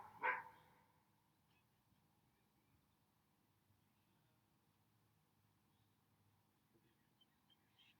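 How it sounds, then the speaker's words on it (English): A neighbor's Doberman gives one short bark at the start, fairly faint and distant, followed by a quiet room. "That is the neighbor's dog, Ellie."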